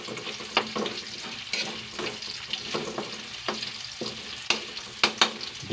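Onion sautés in a pan, a steady sizzle broken by repeated scraping strokes of a utensil stirring, close and fairly loud, with no speech.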